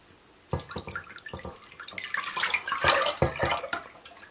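Thick buttermilk pours and splashes into a pot, with gurgling bursts and drips growing steadily louder and busier.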